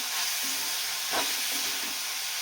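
Onion, tomato and coriander sautéing in a pan over low heat, a soft even frying hiss with an occasional spoon scrape near the middle, quiet and continuous.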